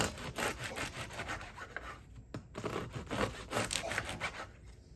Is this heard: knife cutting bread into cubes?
yes